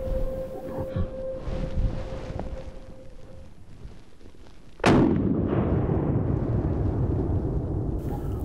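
A Winchester SXR2 slide-action rifle fires a single loud, close shot at a wild boar during a hunt, a sharp blast followed by a long rumbling decay over wind and outdoor ambience.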